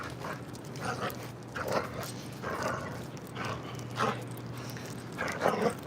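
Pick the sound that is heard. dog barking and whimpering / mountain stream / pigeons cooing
dog barking and whimpering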